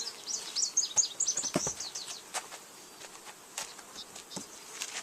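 A dense, continuous buzz of many honey bees at an open hive close by, with scattered individual insects droning past and faint bird chirps early on.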